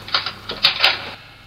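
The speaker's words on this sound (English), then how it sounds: "Now I'll give you an example of the ice cracking." A short designed ice-cracking effect for a projection-mapping show, standing for blocks cracking inside a building: a quick run of four or five sharp, brittle snaps and crackles, close and dry, with no talk.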